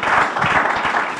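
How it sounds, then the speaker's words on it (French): A church congregation applauds the Lord, a dense, steady wash of many hands clapping together, loud and sustained for about a second with no pause. "Acclamons très fort le Seigneur"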